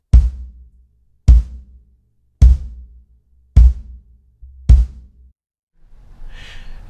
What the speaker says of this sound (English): let's hear it with the felt beater.